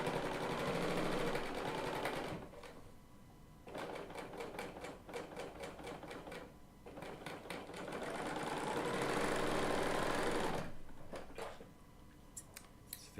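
A Bernina L890 machine stitches quilt binding in steady rapid mechanical runs, pausing briefly twice before starting again, close and fairly loud with no voices.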